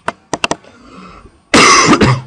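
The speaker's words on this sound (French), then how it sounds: "C'est pas la première fois que vous m'entendez tousser." Several sharp coughs come in a quick cluster, followed after a short pause by a louder, rougher cough or throat-clearing burst, close and alone with no talk.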